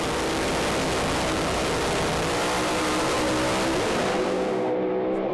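Pro Alcohol drag racing cars rev hard at the start line of a dragway, a loud sustained engine roar with rising pitch that drops away abruptly near the end.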